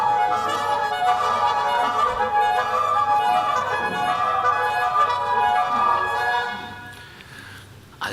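A forged iron flute with a wax-and-clay head plays one long, reedy sustained tone with a gently wavering pitch, then fades out.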